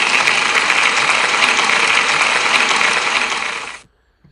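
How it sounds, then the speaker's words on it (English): School audience at a celebration assembly applauding, a dense, even wash of clapping that holds steady for several seconds, then fades out and stops abruptly. "Can we give Elodie a big round of applause"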